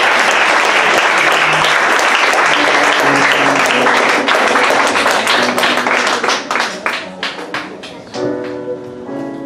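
Loud sustained applause from a church congregation at a graduation ceremony for new servants, a dense wash of clapping that thins into scattered claps near the end as music begins underneath.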